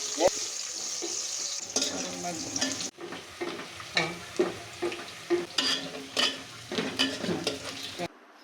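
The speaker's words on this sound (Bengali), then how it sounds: "এখন খিচুড়ির জন্য কিছু পেঁয়াজ কুচি দিয়ে ভেজে নেব" Chopped onions frying for khichuri in a pan, a steady close sizzle with stirring scrapes and clatter, louder bursts as the pieces are turned, then cutting off at the end.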